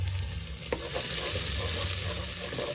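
Garlic sautéing in hot oil for a squash and coconut milk dish, a steady close sizzle with a brief stir clatter, no voices.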